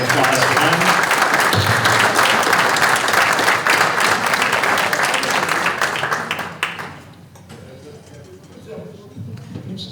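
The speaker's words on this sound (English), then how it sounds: "so a round of applause for them" A banquet audience at a Good Scout Award dinner gives strong sustained applause to a high school string quartet. The dense clapping fills the room and then fades to scattered claps and quiet murmur.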